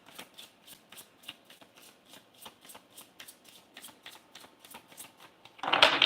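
Tarot cards being shuffled in quick, regular riffling bursts, soft and close, ending in a louder, denser flurry of card noise.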